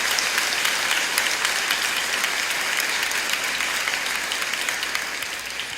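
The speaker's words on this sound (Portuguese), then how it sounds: "Podemos aplaudir a Cristo." A church congregation applauds in a dense, steady wash of clapping that stays loud throughout and eases slightly toward the end.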